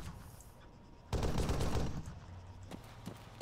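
Gunfire in Arma 3: a dense burst of rapid shots about a second long, loud and close, followed by a few sharper isolated cracks over a low rumble.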